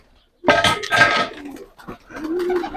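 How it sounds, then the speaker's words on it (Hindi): Close pigeons cooing, a few throaty, rolling coos in quick succession with brief pauses between them. "पूरे कबूतर तैयार हैं, दाना खा रहे हैं।"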